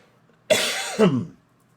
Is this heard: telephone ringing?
no